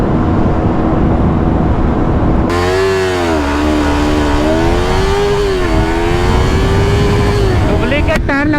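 A Yamaha R3 and a KTM Duke 390 motorcycle drag racing, engines revving hard with rising and falling pitch sweeps as they accelerate, loud and close, with wind buffeting and a voice talking over it.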